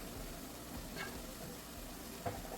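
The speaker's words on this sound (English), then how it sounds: "Frying our tomato paste and onions together." Tomato paste and onions frying together in a pan for West African jollof rice: a faint, steady sizzle with soft crackles and a couple of light stirring clicks.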